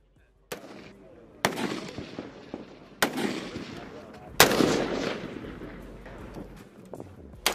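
Rifle gunfire at a U.S. Marine Corps marksmanship competition in the Far East: four loud, sharp shots spaced a second or more apart, each trailing off into range echo, with faint background noise between.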